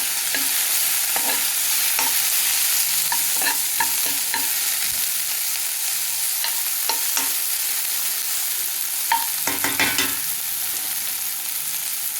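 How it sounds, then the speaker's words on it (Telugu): Garlic slices and cumin seeds fry in a pan while a spoon stirs them, giving a soft continuous sizzle broken by repeated scraping and clinking strokes, close up and with no talking. "వెల్లుల్లి రేఖలు, జీలకర్ర యాడ్ చేసి ఒకసారి కలుపుదాం."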